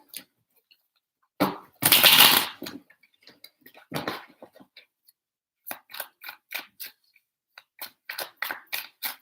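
Tarot cards are handled and shuffled: a dense riffling burst near the start, then a run of crisp, close snaps and taps at an uneven rhythm, with no talking.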